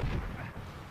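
Explosive booming blast in the Medal of Honor Warfighter shooter game, a loud low rumble dominating the full second and slowly fading, with no speech over it.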